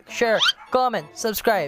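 Neighbourhood dogs give three short bursts of high yips and whimpers, fairly close and clear, while a person speaks in between.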